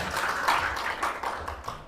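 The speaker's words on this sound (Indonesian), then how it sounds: "Kasih tepuk tangan dong buat Tuhan kita, ya." Church congregation clapping hands in praise, a dense, steady patter of many hands at close range with no one talking.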